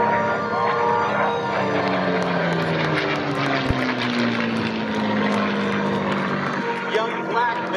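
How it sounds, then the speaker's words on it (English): A Tuskegee Airmen propeller warplane named By Request drones steadily as it approaches at an airshow, a continuous engine roar with a slowly shifting pitch lasting throughout, loud and close, with a brief sharp thump partway through. "We appreciate as the Tuskegee Airmen's aircraft, known as By Request, approaches."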